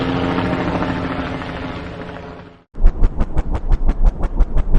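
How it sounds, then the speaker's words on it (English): A police helicopter's steady engine roar cuts off, then a loud rhythmic rotor thumping begins, close and pulsing rapidly. "Police helicopter."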